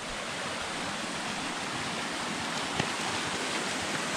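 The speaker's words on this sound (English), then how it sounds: "So it's like multiple waterfalls down there all collect together." Several waterfalls pour down into a pool on a large rural property, a steady, dense rushing roar of water heard from nearby with no voices.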